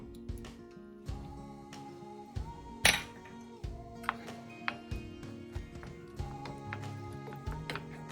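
Boiled pasta is stirred into a roux in a pot, a quiet run of spoon clinks and taps against the metal, irregular and close, with a louder knock partway through and no voices.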